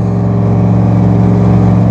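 A Dodge Ram's engine hums steadily and loudly from inside the cab while driving on a road trip in Bolivia, a continuous mid-pitched drone with no voices.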